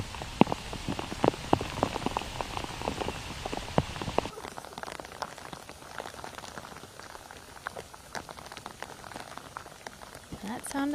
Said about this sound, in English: That sounded like rain to me, Terry